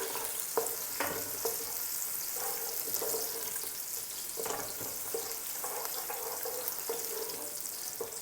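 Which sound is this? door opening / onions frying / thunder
onions frying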